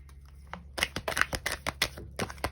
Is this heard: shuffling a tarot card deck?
yes